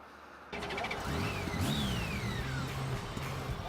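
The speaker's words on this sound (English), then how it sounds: "Engines purring, 6 cylinders are firing, music's pumping." A six-cylinder motorcycle engine catches abruptly and runs loud and close, its pitch climbing and falling as the revs swing.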